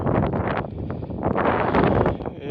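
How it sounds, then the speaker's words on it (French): Strong wind buffets the microphone during a 42 km mountain race on Mount Cameroon, a loud continuous roaring rush with gusty swells and no talk. "Il y a beaucoup de vent"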